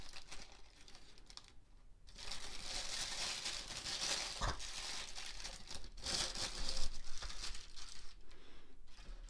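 Plastic packaging of a Star Wars Vintage Collection army builder figure pack being crinkled and torn open, crackly rustling bursts coming and going close by, with no talk.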